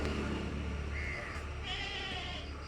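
A large crossbreed goat bleats a couple of times, wavering and fairly close, over a steady low background hum with no talking.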